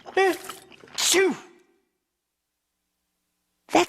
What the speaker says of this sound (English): That sounds like Henry sneezing.